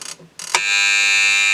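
A Toshiba TCM-952 flip alarm clock begins with a couple of short bleeps, then settles into a continuous loud, shrill electronic ringing.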